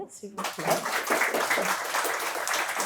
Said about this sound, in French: On va peut-être les applaudir